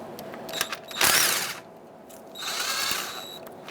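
A power tool whirs in two short bursts, driving a 16 mm socket on a swivel to remove brake caliper bolts from a Ford Ranger, close and loud with quiet gaps between.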